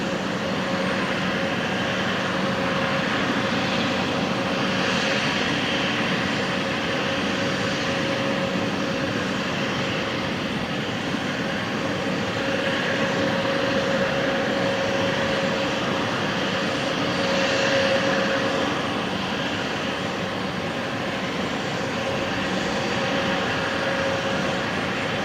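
Aircraft taxiing at Brisbane Airport after leaving the international terminal, a steady distant engine drone with a constant whine holding evenly throughout, no voices.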